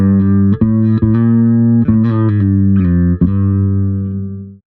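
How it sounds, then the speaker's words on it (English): A sustained electric bass note through a NUX Mighty Bass 50BT combo amp's flanger effect, sweeping and whooshing, interrupted by a few sharp plucks before fading out. "Let's check out the flanger"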